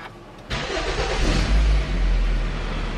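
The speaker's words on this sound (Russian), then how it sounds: "Запускаем двигатель." A car with a failed four-wheel drive, raised on a garage lift, cranks and fires after a short quiet moment, then runs with a loud, rising rev before settling to a steady idle.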